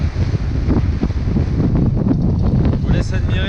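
Strong wind buffets the microphone aboard a sailboat on a transatlantic return crossing, a close, loud, gusty roar with water splashing and a brief whistling creak near the end.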